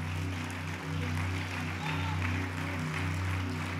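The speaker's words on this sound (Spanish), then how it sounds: "Denle un aplauso al Señor Jesucristo de veras" Church congregation applauds for Jesus Christ during an evangelistic sermon, a soft, steady wash of clapping mixed under sustained low keyboard or organ chords.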